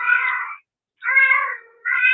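A female cat meows loudly and close by in three drawn-out, wailing calls separated by short silences, alone with no other sound.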